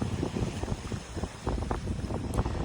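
Wind buffets the microphone on the Baltic Sea shore during a spinning fishing trip, a continuous loud roar with gusty bursts and no talking.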